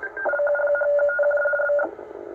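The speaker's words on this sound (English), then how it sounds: "It's a kind of a radio teletype or STANAG style signal." A U.S. Navy radio teletype signal received on a shortwave portable radio, a brief steady burst of warbling data tones lasting under two seconds, clear and alone before it cuts off.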